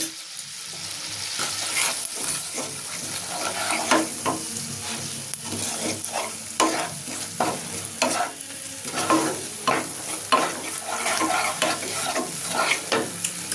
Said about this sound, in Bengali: নারকেল বাটা, সর্ষে বাটা, পোস্ত বাটা একবারই দিয়ে দিলাম। দিয়ে নাড়াচাড়া শুরু করে